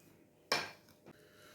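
Potatoes are tipped into a bowl of pakora batter, making one sharp clatter against the bowl followed by a softer second knock and quiet mixing.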